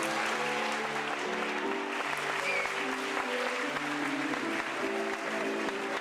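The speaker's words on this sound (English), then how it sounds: "Please give your wholehearted applause to" Audience at a senior women's pageant applauding the production team, continuous even clapping from a large crowd at moderate distance, with a faint voice over the applause and no other sounds.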